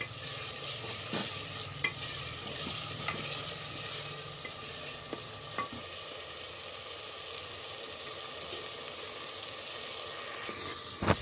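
Ginger-garlic masala sizzles steadily as it fries in a pan for a potato and egg curry, with a spoon scraping and stirring in occasional soft strokes over the constant crackle.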